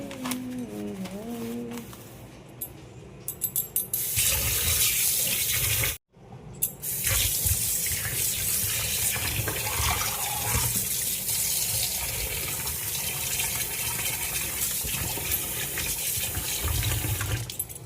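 Tap water runs steadily into a sink while fish are washed, a continuous close rushing splash that goes on for most of the stretch with one brief pause, with faint voices at the start.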